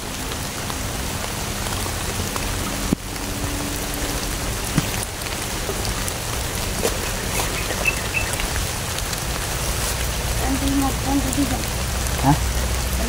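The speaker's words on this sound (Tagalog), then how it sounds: "Ulan na nga eh." Steady heavy rain pattering on surfaces outdoors in a mountain setting, a dense continuous hiss that runs the whole time, with occasional faint voices and small bumps beneath it.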